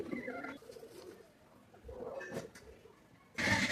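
Pigeons at a pigeon farm, including Omani and Pakistani breeds, give a few soft coos in a quiet room, followed by a brief louder clatter near the end.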